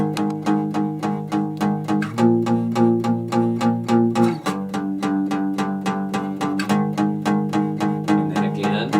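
Electric guitar chugs steady palm-muted power chords through the pre-chorus of a song, a tight repeating rhythm with chord changes, played alone and up close.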